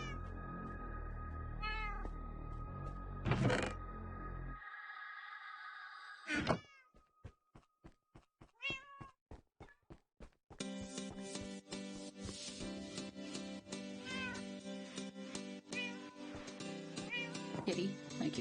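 A domestic cat meows several times indoors during a moving and teardown day, with clear, rising and falling calls mixed with scraping and handling noises and some talking.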